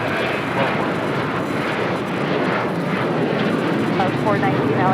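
A jet airliner roars down runway 25 right at LAX on takeoff, a loud, steady broadband engine rumble that fills the whole stretch without a break.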